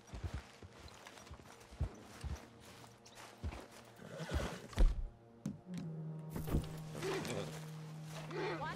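Horse sounds in Red Dead Redemption 2 while breaking in horses near Valentine: scattered hoof thuds and clip-clops with a whinny, fairly quiet, with a sustained tone entering partway through.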